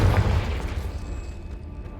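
A Confringo blasting spell goes off in the Hogwarts Legacy video game, a loud booming burst at the start that rolls into a dense rumbling decay over the following seconds, with no other sound on top.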